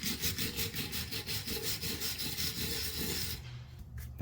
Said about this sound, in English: I might even scrub this with a wire brush a little bit